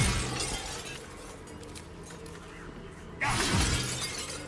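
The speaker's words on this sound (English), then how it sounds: "Should I have smashed the mirrors already?" Mirrors shatter in the video game Baldur's Gate 3, a bright burst of breaking glass that bursts in loudly near the end after a quieter stretch of game ambience.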